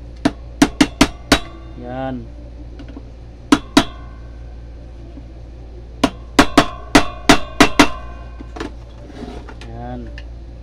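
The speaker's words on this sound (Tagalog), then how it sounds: "Pukpukin natin bahagya to." A light hammer taps on a part of a Daikin 2.5 air conditioner with a shorted outdoor fan motor, sharp metallic knocks in quick clusters of four or five, with a brief voice between them.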